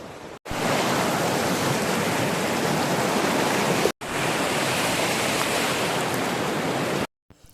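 Strong rushing water roars as a loud, dense and constant wash close by, cut off abruptly in three sections with short silences between.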